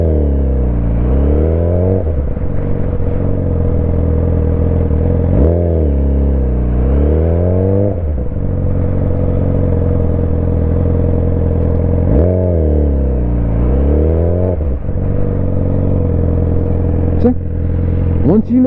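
Motorcycle engine revving up and easing off several times as the rider works the clutch and throttle to pull away and stop, a steady loud engine drone with rising rev sweeps, a voice talking over it.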